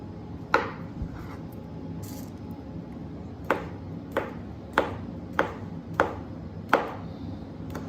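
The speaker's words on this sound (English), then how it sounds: "I'm just going to come back in here and just slice the rest of these." A knife slices ingredients for New Orleans style gumbo on a cutting board, giving sharp, evenly spaced chops roughly every half second over quiet kitchen ambience.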